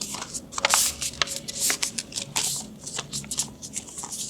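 A sheet of paper is folded and creased again and again for a children's Sunday school craft, giving close, crisp rustling and crackling bursts with no talk.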